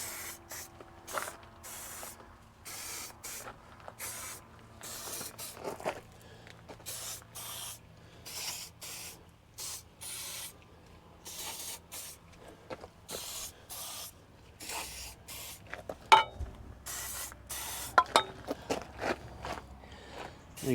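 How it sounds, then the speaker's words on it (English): Short bursts of aerosol lubricant sprayed around the blades of a Khun machine being readied for winter storage in a shed, repeated hisses with gaps and a few clicks and knocks near the end. "I was going to put a bit of squirt around those blades"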